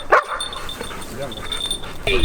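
A search and rescue dog at a fire service training exercise gives short, sharp barks and yips near the start and end, under someone talking nearby.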